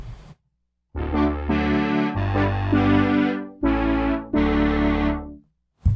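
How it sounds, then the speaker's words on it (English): Brassy polyphonic synthesizer chords with a chorus effect giving a shimmering, slightly wavering quality, several sustained notes in sequence separated by brief gaps. "And with chorus"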